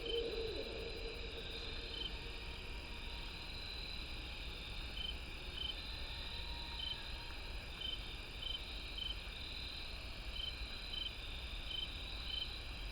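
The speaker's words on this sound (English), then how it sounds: "so those are barred owls, it sounds like" Barred owls hooting faintly in the distance at night, short soft calls repeating over a dense, steady chorus of crickets and insects.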